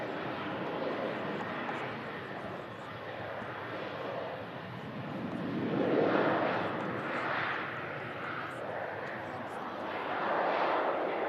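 A KLM airliner departs under a distant jet rumble that rises and falls in waves, while people talk over it.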